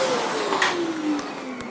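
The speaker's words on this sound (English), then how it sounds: "All nicely hoovered up now, so I'll put that away." A vacuum cleaner hoovering a kitchen gives off a loud, close, airy roar with a motor whine that slowly drops in pitch, as though winding down.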